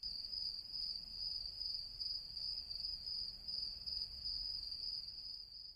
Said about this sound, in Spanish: A lo lejos los grillos comienzan a frotar sus patitas, produciendo un característico sonido.